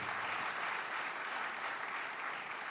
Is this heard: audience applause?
yes